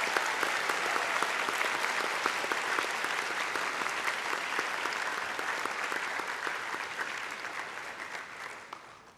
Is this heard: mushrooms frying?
no